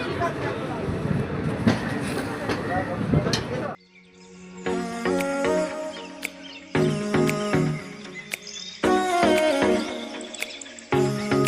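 A moving passenger train travelling from Kolkata, heard from inside the carriage, gives a steady rumble and rhythmic clatter of wheels on rails, broken by abrupt cuts between stretches.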